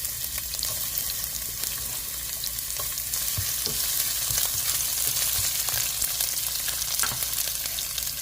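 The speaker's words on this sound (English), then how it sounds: "Put some onions." Onions fry with curry leaves in a pot of oil for a coconut chicken curry, giving a dense, continuous close sizzle with faint stirring scrapes and no voices.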